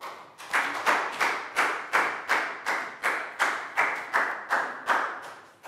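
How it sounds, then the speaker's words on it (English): A primary school class claps together in a steady, regular rhythm, roughly two claps per second of sharp, close hand slaps repeated evenly for several seconds. "Big round of applause for Pangpon."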